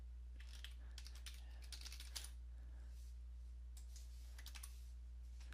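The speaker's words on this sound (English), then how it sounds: "I'm going to type in my computer password." Keys on a computer keyboard clatter close by as a password is typed, several quick bursts of tapping separated by short pauses over a steady low hum.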